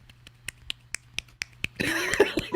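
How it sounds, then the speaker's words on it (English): A series of sharp, dry smacks from a one-handed clap, one hand cupped and smacking against itself, about eight evenly spaced in quick succession, followed by a short burst of rustling noise. "I'm just like making my hand like a clam, and I'm just like smacking it against itself"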